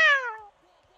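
A person imitates a cat with a single clear, high "meow" that falls in pitch and fades within half a second, loud and close, followed by near silence.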